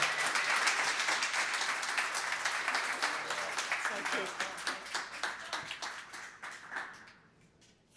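An audience applauds to welcome a speaker at an architecture foundation talk: dense, steady clapping from many hands that thins out and fades to near silence over several seconds.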